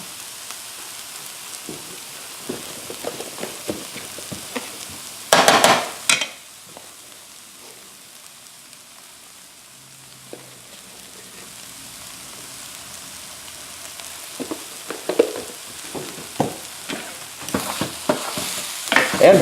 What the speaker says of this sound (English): add those in, stir it around a little bit here